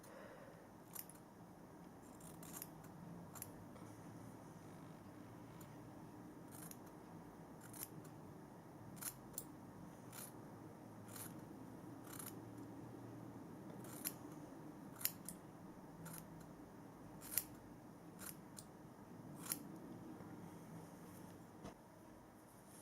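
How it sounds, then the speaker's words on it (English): Scissors cutting a hair fringe at home, giving sparse, crisp snips spread irregularly over a quiet, steady background hiss. "I'm just going to take the last section here and just cut a little bit more off"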